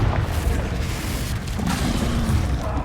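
A Confringo explosion spell in Hogwarts Legacy, played in VR: a loud booming burst that rolls into a sustained roaring rumble lasting a few seconds, close and heavy, with no one talking.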